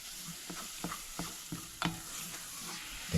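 A spoon stirs a thickening Diwali sweet mixture in a pot, making steady, close scraping strokes about three times a second over a soft background hiss, with no talking.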